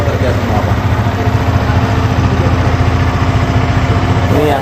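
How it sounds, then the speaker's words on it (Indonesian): A Yamaha XSR motorcycle idles steadily at its 1000 km service, its engine giving a continuous, close, even low throb with a constant hum throughout. "Untuk ngeceknya kita hidupkan mesinnya."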